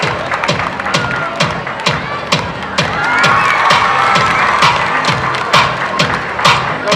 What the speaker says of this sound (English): So please cheer them up with your applause.